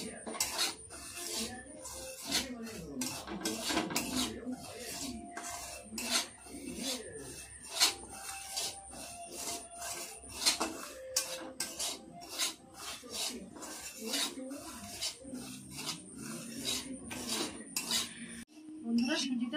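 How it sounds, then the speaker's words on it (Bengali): Semolina dry-roasted in a kadai, stirred steadily with a spoon that scrapes and clinks against the metal pan in a continuous busy rhythm, close and moderately quiet without talk. "সুজিটা হালকা ভেজে নেব।"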